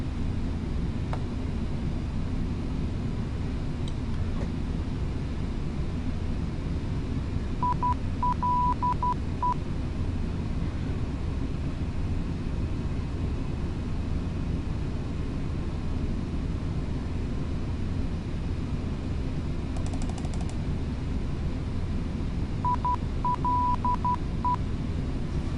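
Flight Simulator X cockpit on approach from JFK to Toronto, with a steady engine and airframe roar throughout and short bursts of a high Morse-style ILS identifier tone beeping twice over the drone.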